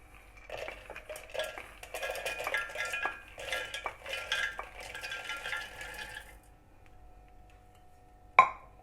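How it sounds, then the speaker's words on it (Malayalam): Cooled roasted peanuts are tipped into a mixer jar, giving a quiet, close rattle and clink of nuts on metal for about six seconds, then a single sharp knock near the end. "ഇനി നമ്മൾക്കൊരു മിക്സിയുടെ ജാറിലേക്ക് ഇത് ചേർക്കാം"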